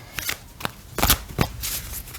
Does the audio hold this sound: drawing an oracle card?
yes